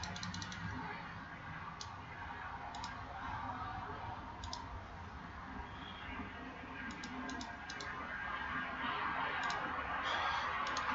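Sparse computer mouse clicks, a few isolated sharp ticks and quick double clicks, sound faintly over a steady background hiss with no one speaking.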